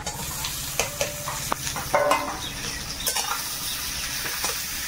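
Potatoes go into a wok with tempered spices and fry with a steady close sizzle, broken by scraping stir strokes and light clinks of a utensil against the pan.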